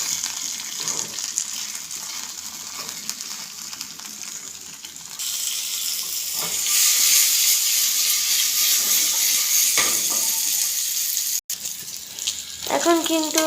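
Chilies and beans frying in a pan give a steady hiss and sizzle that swells louder midway, with occasional clatter and stirring sounds.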